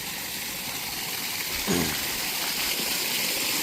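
Water rushes steadily and continuously into an open well, with a brief splash or thump partway through.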